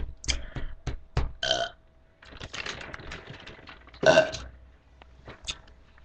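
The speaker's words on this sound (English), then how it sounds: "was the contagious burp" Several loud, close burps erupt in short bursts, the strongest near the end, mixed with clicking like keyboard typing and quiet pauses between.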